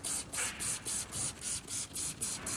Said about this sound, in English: we'll just give it a little spray off first